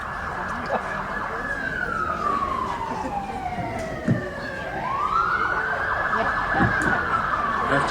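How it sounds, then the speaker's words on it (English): A wailing emergency vehicle siren sweeps down and back up in pitch as it passes an outdoor hula performance, loud over rumbling traffic noise. "We'll wait for the siren."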